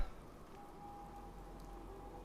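Soft, steady rain in the video game Fallout 4 makes a faint, even hiss under a thin tonal hum, with no voices.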